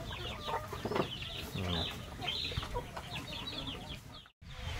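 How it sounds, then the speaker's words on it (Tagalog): Farm chickens clucking near a planted garden, several birds calling in irregular clucks and short squawks over a steady outdoor background, moderately close. "Ayan po ating mga manok."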